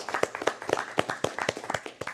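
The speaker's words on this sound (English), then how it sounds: "I think that deserves a round of applause." A small group at a fiscal court meeting applauds, with sparse, distinct handclaps falling in a loose, quick rhythm, several claps each second, at moderate volume.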